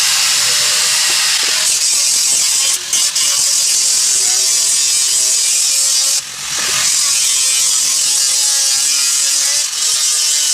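A machine finishing an 8-inch round board of tamarind wood, a loud steady hissing grind that runs throughout and dips briefly a few times, with no voices.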